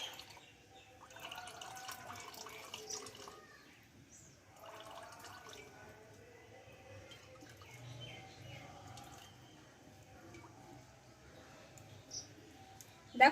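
Water drips and trickles as warm chhena cheese is squeezed by hand in cloth for Bengali rasgulla, soft intermittent splashes and wet squelches, faint and close in a quiet room with no talking.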